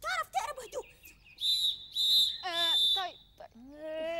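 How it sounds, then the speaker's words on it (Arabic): Whistled melodic tones from a children's TV show scene, a series of sustained and sliding high notes in short phrases, fairly close, with a speaking voice at the start. "دي مش موسيقى، ده تصفير"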